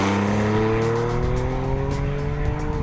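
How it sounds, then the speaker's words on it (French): Porsche 911 997 Carrera GTS cabriolet flat-six engine and sport exhaust with resonance flaps, pulling hard under acceleration with a loud, steadily rising note that fills the whole stretch without any voices. "En appuyant sur un bouton, on peut même moduler la symphonie en intervenant sur les clapets de résonance de l'échappement"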